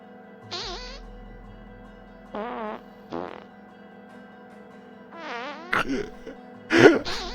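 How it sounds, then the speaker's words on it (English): Cartoonish sound effects from the Factorio Seablock modpack play as short, buzzing, warbling blurts that sound like farts or squeaky animal noises. There are about five separate bursts with gaps between them, and the last two are louder and harsher. "this should get my funny fart sounds now"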